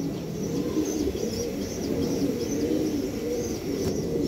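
Khaki racing pigeons coo steadily and close by, with low throaty calls overlapping and repeating without pause, and a few faint chirps above them.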